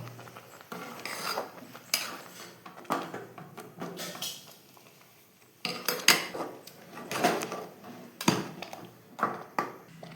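Ven pongal being stirred in a metal pot, with a string of close, irregular clanks and scrapes from the spoon against the pot and brief quiet gaps between strokes.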